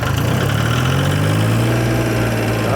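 A small tractor's engine idles steadily and loudly at close range, a continuous low rumbling drone with slight pitch drift and no pauses.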